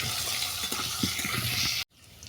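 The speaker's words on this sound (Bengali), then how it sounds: "আলুর মধ্যে অল্প করে দেবো লবণ আর হলুদ। এটাকে আমি বাদামি করে ভেজে নেব।" Potato pieces with a little salt and turmeric fry and sizzle in a pan while being stirred, a busy crackling hiss with scraping stirs that cuts off abruptly near the end.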